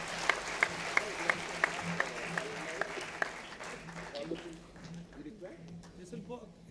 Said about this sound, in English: Let us warmly welcome our guest with a huge round of applause.